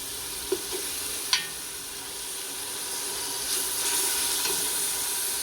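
Margarine melting in a pot for creamy cheesy broccoli soup gives a steady, soft sizzle and hiss, with a couple of brief clinks early on and the frying growing slightly louder toward the end, no talking.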